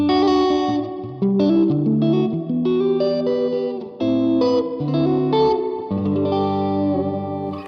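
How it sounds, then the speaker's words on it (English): Guitar played through a Black Country Customs Secret Path reverb pedal, spring reverb with modulation, giving sustained chords and notes with a wavering, chorus-like shimmer and lingering tails, loud and steady with no talk. "it also adds a modulation to the spring reverb"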